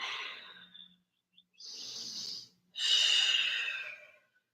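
Deep breathing during a yoga session: three long, airy breaths, each a soft rushing exhale or inhale separated by brief silences, close and clear.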